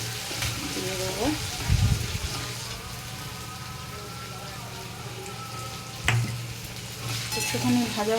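Green chilli and ginger paste frying and being stirred in a pan for soya chunk kofta curry, a steady sizzle with brief scraping bursts near the start and around the six-second mark.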